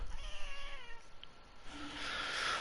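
A pet house cat meows in a few drawn-out, wavering calls at moderate distance, followed by quieter background noise and a faint hiss-like rush.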